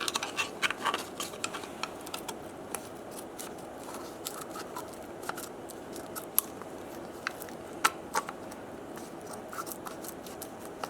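Scissors trimming the edge of 3D printed respirator mask material, a soft series of small snips and crisp ticks spread unevenly over a quiet background.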